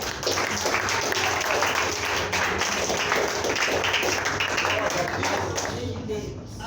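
A church congregation claps hands in praise to the Lord during a Saturday service, a dense, steady wash of applause lasting throughout with voices mixed in.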